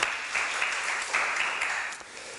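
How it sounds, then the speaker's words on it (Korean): A church congregation in a Korean worship service claps in praise, a short, steady patter of applause at moderate volume without talk, with a few sharper claps standing out. "우리 주님께 감사와 찬양과 영광의 박수를 올려드립니다"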